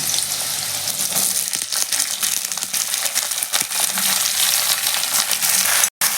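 Drumstick pieces and other vegetables hit hot oil tempered with spices, setting off a loud, steady sizzle with crackles and popping throughout, briefly cut off near the end.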